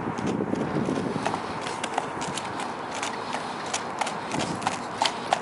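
A horse, said to sometimes gait a little, trots at a normal trot with steady clip-clop hoofbeats in a broad, continuous outdoor rustle, fairly close and even throughout.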